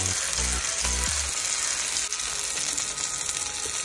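Tomatoes fry in a pan with a dense, steady sizzle close up, with a few low thumps at the start and no voices.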